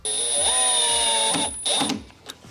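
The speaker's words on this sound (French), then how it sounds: "vous allez venir visser le système de fixation à la façade" A power drill-driver with a Phillips bit whirs steadily, screwing the fixing system onto an oven cabinet front in a kitchen, close and clear, its motor winding down near the end.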